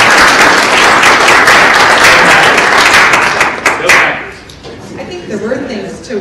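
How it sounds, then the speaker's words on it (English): Applause from the audience at a leadership council meeting, a dense sustained patter of many hands for about four seconds that then thins and fades out, with some talk in the background. "let's give him a round of applause"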